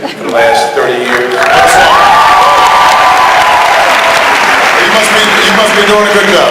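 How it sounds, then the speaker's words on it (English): Town hall audience breaks into sustained applause and cheering, a dense crowd clapping loudly and steadily throughout, with a few voices calling out over it. "Everybody give you a big round of applause."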